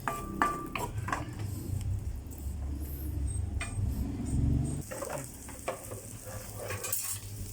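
Onion sautéed in a pan for a banana-blossom dish, with a continuous close sizzle and frequent utensil scrapes and clinks against the pan, stirring steadily throughout.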